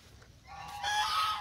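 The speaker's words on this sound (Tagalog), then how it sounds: "Ito yung mga gansa." Geese on a small Philippine farm raising them for eggs honk loudly and continuously, a dense, raspy chorus building in the last second, fairly close.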